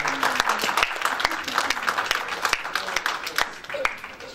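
Audience applause greets a student volunteer at a humanities camp lecture, with steady clapping and sharp individual claps sustained throughout and no speech over it.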